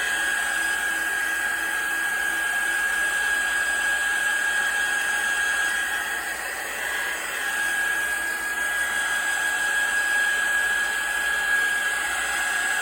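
A hair dryer blowing on an art journal page, a steady, loud whooshing drone with a high whine that holds unbroken from start to finish, close by with no talking.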